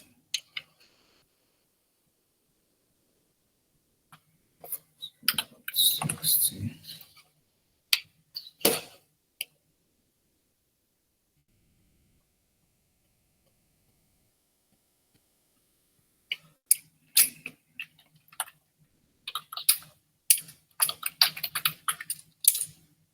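Someone types commands on a computer keyboard in two bursts of rapid, close key clicks separated by quiet pauses, with no talking.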